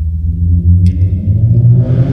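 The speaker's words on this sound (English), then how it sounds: "And I'm sorry about the background noise of cars and motorcycles in here." Passing cars and motorcycles in a public setting make a loud, low, continuous rumble that swells and eases, with a brief higher whine partway through and rising hiss near the end.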